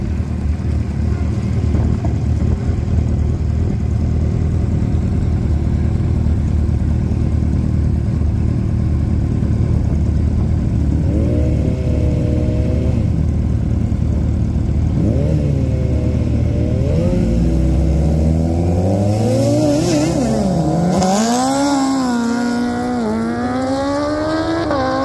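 Street-legal Kawasaki ZZR 1400 motorcycle of about 200 hp launching in a drag race at an airfield strip, a steady loud engine drone that climbs in pitch through the gears as it accelerates hard.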